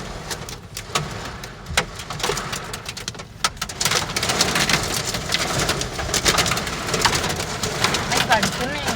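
Heavy rain and hail pelting a car during a storm, a loud, dense, continuous drumming on the body and glass with sharp individual impacts scattered throughout, growing slightly heavier partway through.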